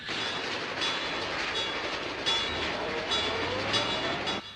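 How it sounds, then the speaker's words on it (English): A train rumbles past at a steady distance, with faint rhythmic clatter and a thin whistle-like tone over the continuous noise. "Hear the train?"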